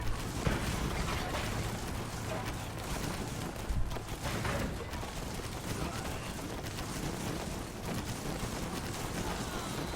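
Continuous gunfire in the video game Conqueror's Blade, dense rapid shots rattling on without pause over a busy, noisy battle background.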